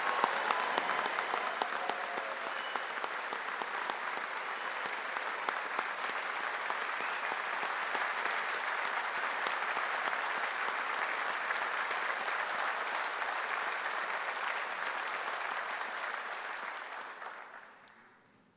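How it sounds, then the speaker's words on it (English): A graduation audience gives sustained, dense applause that holds steady for most of the stretch and then fades out at the end. No voices stand out over the clapping. "give the class of 2026 another round of applause."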